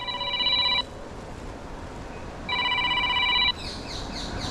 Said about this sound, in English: Oh, they're ringing me again.